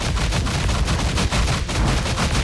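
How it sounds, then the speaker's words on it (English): Rapid rocket and gunfire blasts in the video game Scathe, a dense, continuous barrage of loud explosive bursts with no talking. "Okay, where are those rockets coming from?"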